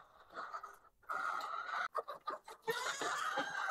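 Dekalb White laying hens clucking and murmuring nearby at feeding time, soft irregular calls overlapping in a quiet backyard coop.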